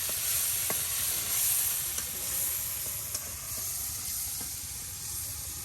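Spice paste with prawns and salt sizzles and fries steadily in a pan over a village cooking fire, a continuous close hiss with a few faint stirring clicks.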